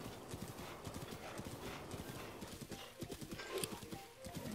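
A horse in The Legend of Zelda: Breath of the Wild clip-clops with quick, steady hoofbeats. The trotting runs close and even throughout, and a brief whinny comes near the end.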